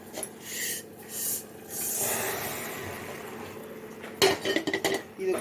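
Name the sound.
roasted moong dal added into a pressure cooker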